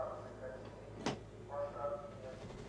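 A single quick thud of metro train doors sliding shut sounds midway, fairly faint, amid low rumbling background and some tonal hum.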